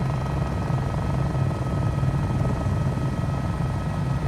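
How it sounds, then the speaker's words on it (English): Helicopter rotor from a four-bladed yellow helicopter resembling a Huey in Microsoft Flight Simulator 2020, a steady low thudding drone with engine hum, continuous and fairly loud with no speech. "What helicopter is that?"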